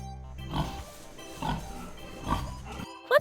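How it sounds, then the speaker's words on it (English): Pig grunting on a farm, three short low oinks spaced about a second apart, fairly close, with a brief bright squeal at the very end and no speech. "It's a pig rolling on the ground."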